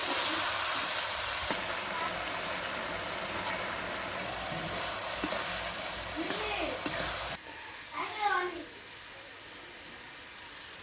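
Vegetable bhaji fries in a pan, a steady hissing sizzle that drops quieter partway through, with faint stirring and brief bird-like chirps in the background.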